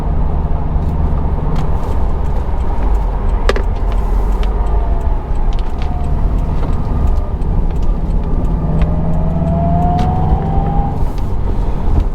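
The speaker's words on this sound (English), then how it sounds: "I can hear the road noise more" Subaru WRX STI on the move with steady, loud tire and road roar under a constant engine drone, and a few faint passing tones; no talking.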